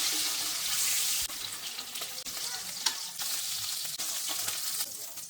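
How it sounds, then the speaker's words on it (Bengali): Eggs being lifted out of hot frying oil for a Bengali egg and potato curry make a steady sizzle with a few sharp clinks and scrapes of a utensil against the pan, close by, with no talking. "দেখুন ডিমগুলোকে হালকা ভেজে নিয়েছি, এবার ডিমগুলোকে তুলে নিচ্ছি।"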